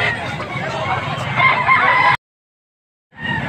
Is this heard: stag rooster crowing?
yes